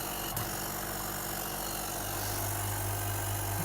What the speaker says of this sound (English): I'll just try turning it on with nothing connected